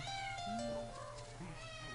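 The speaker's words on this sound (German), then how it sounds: "Ich mag deine Katze. Sie sorgt für einen tollen Hintergrundsound." A cat meows a few times in the background, soft and somewhat distant, over a steady low hum.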